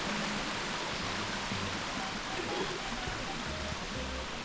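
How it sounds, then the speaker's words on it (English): A forest creek at Sawpit Gully near Arrowtown, New Zealand, rushes in a steady, even wash of water, constant and moderately close, with no talking. "Like an enchanted forest with a creek running through it"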